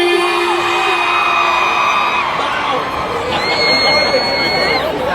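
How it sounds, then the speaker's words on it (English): A crowd of women screams and whoops at a concert at Inferno, a loud, sustained wave of high shrieks with a voice carrying over it. "All the single ladies scream."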